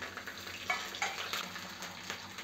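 Green chillies and dried red chillies tossed with chana dal in hot oil for tamarind rice, giving a soft, fairly quiet sizzle with a few brief spatula stirs, no voices.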